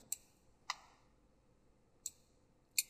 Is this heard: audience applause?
no